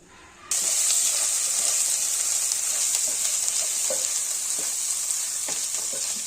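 Onions fry in a pan for a country-style chicken curry: a loud, close sizzle bursts in after a short quiet start and holds as a dense hiss with scattered pops, with no talking.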